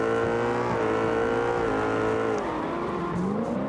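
Race cars on a victory lap at Mondello Park, loud close engine drone with rising and falling revs as they pass, a brief tyre squeal near the end.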